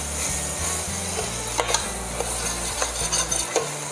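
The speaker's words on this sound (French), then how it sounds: "Et là, on fait bien revenir nos légumes." Sliced peppers, onions and garlic sauté in a pan for chicken basquaise, with a steady sizzle under repeated scraping stirs of a utensil against the pan, close and alone.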